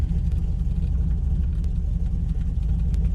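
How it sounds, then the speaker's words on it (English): Truck engine idling steadily after a cold start, a continuous low rumble with a mid-frequency whir, close and even in level, no voices. "So here we go again with a coldish start."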